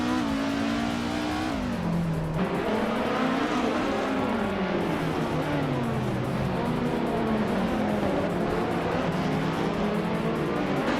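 Race cars roar through a racing video game, a 1996 Osella PA20 BMW among them, with steady close engine drone and shifting revs, rising and falling pitch, and occasional tire squeal, continuous throughout.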